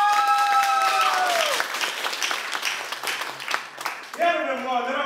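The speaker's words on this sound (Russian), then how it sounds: "Ваши аплодисменты!" A gala concert audience applauds together, a dense wash of clapping running for several seconds as sustained tones fade out at the start and a voice comes back in near the end.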